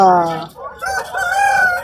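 A rooster crows at a livestock market for roosters in Kunnathur, Tirupur, one loud close crow followed by a second broken, rasping call, with no clear talk over it.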